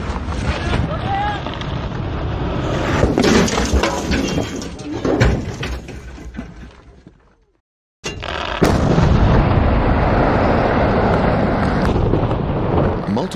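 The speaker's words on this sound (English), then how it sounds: "the main blast occurred" A main rock blast at a quarry, heard as a loud, sustained, rumbling roar buffeted by heavy wind noise, cutting out briefly and then returning at full strength.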